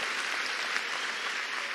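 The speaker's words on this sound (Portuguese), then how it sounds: "Vamos aplaudir as águias aqui entre nós?" Church audience applauding, a short steady burst of many hands clapping together with no gaps.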